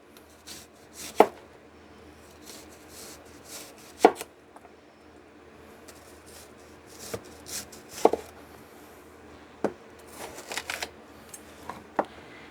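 A knife chops fresh ingredients for fire cider on a cutting board in sharp, irregular taps, several crisp strikes spaced a second or more apart, close and clear against a quiet room.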